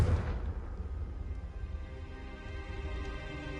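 A Confringo fire spell in Hogwarts Legacy bursts into a loud, booming explosion at the start, then decays into a rumbling, crackling tail that fills the rest of the moment.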